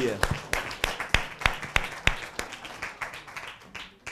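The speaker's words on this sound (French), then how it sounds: "On l'applaudit." Audience applauding a contest runner-up at a televised Caribbean Christmas event, a sparse, uneven run of distinct claps that gradually thins out over a few seconds.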